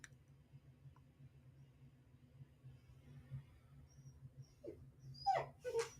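A puppy whimpers faintly at first, then lets out a few sharp, louder yips near the end over a low background hum.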